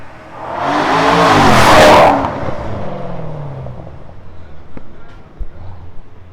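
A Porsche Panamera 4S 3.6 with a remote-controlled Varex valved exhaust lets out one loud, rising rev that peaks and cuts off after about two seconds, then fades to quieter outdoor background.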